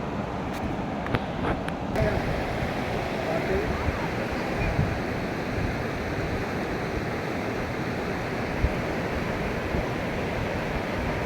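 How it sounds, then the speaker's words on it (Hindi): A river flows right beside a riverside camping spot, a steady rushing wash close by that stays even throughout, with a few faint clicks near the start. "अब देखो अब पानी कितने पास में है, बिल्कुल पानी के किनारे पे बैठे हैं हम लोग"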